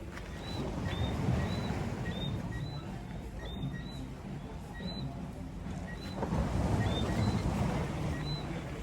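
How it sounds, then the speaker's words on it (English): Repeated short, high whistling chirps of whistling frogs at a steady pace over a low rumble of surf and wind at a beach in Holetown, Barbados, faint and somewhat distant. "You can hear the whistling frogs coming out."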